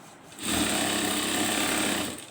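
A sewing machine briefly stitches the lining onto a blouse, a short close burst of rapid whirring that starts, holds for about a second and a half, then stops, with no talking.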